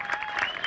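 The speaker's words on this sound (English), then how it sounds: "let's give a round of applause" Crowd applause at a 3D archery open event, a brief dense burst of many hands clapping at steady loudness.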